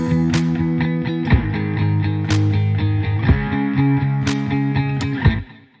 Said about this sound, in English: With the original guitars, it sounds like this.